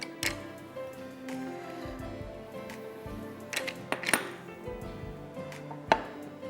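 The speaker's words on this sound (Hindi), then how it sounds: "अंडे थोड़े से मैं बीट कर लूँ" Two eggs whisked in a bowl, giving irregular close clicks and taps of metal against the bowl with a few sharper knocks, and no talk.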